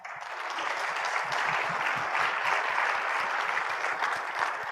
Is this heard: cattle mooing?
no